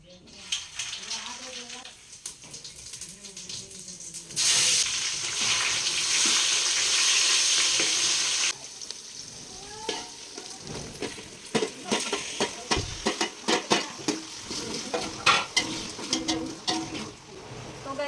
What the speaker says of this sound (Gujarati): તો જો તેલ થઈ ગયું તો હવે દાળ વઘારી લઉં